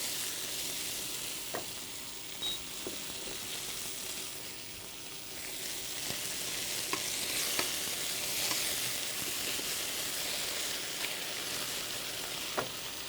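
Veal cutlets sizzle and fry steadily in a pan, a continuous crackling hiss with small pops and occasional louder spits throughout.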